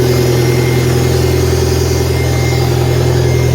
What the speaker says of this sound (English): So I think it's the little smog vacuum pump.